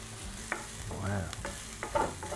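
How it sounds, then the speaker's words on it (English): Finely sliced onion frying and browning in a hot pan, a soft continuous sizzle with a couple of utensil scrapes and taps, and one short swelling burst of crackle midway; quiet overall with no talking. "First step we're gonna do is we're gonna brown our onion"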